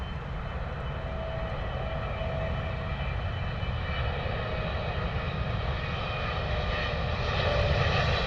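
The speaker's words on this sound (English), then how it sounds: "Air India, Boeing 777." Air India Boeing 777 on landing approach at London Heathrow, a steady distant jet engine drone with faint whining tones, constant throughout and rising a little in loudness near the end.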